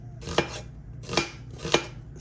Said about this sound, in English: I'm just going to slice that medium onion like so.